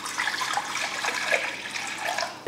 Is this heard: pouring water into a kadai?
yes